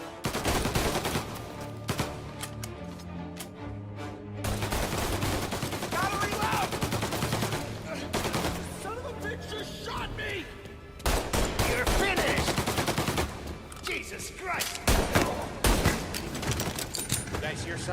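Gunfire in Mafia: Definitive Edition: sustained bursts of shots crackle through a busy firefight, with short pauses, mechanical clatter and voices speaking over the shooting at moderate loudness.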